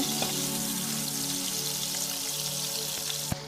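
Mutton frying with ginger paste, coriander, cumin and black pepper powder for Bengali mutton kosha, a steady close sizzle with faint scraping of stirring and a sharp knock near the end, no talk.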